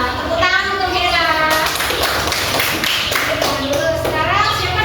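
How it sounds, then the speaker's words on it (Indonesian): Applause from a class of primary school children at a counseling session, steady dense clapping throughout, mixed with kids' voices and chatter. "Tepuk tangan untuk Hera"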